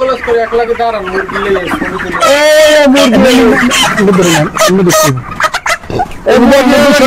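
Chickens cluck loudly and close by, with repeated rising calls and squawks, while a person talks over them throughout.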